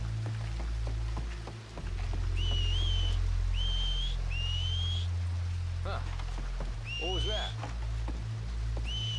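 Clear, tuneful whistle notes from a character in the open-world western game Red Dead Redemption 2 repeat in short bursts over steady rain-like ambience, with a quiet voice underneath.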